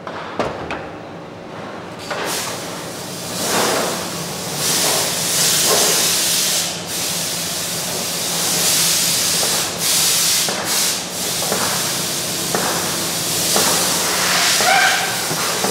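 Oil being drawn out of an automatic gearbox: a continuous hissing, rubbing flow with occasional clicks and knocks from tools, fairly loud and close, with no talking.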